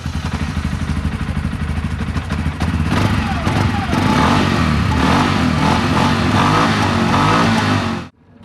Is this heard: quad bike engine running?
yes